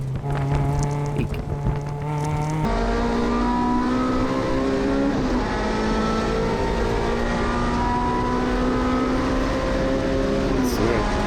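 A Honda CRX race car in an SCCA Majors race at Auto Club Speedway runs at full throttle, its engine holding a loud, steady high-pitched drone with rising harmonics after an upshift, heard close from inside the car.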